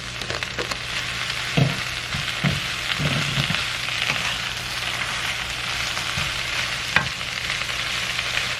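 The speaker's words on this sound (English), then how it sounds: "The garlic has started to brown and you can see they're brown, so I'm going to add my greens now. Start to cook the greens" Radish greens sauté in a pan over medium heat with browned garlic, giving a steady, dense sizzle throughout, with a few scattered clicks and scrapes of stirring.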